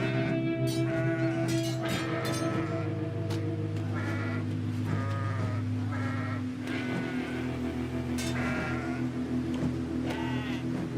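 Goats in Kenshi bleat repeatedly in overlapping wavering calls, loud and close, over a steady droning game background with combat clatter.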